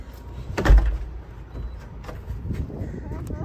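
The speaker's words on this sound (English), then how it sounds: "locking the door" A rental house door is pulled shut and locked: a solid thud followed by a few lighter clicks and knocks, close by, with a voice in the background.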